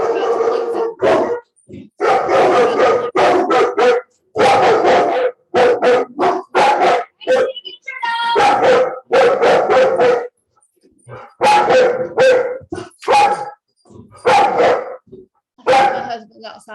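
Two household dogs bark and yip repeatedly, loud and close, in dense irregular bursts with short pauses, along with whimpering over sixteen seconds.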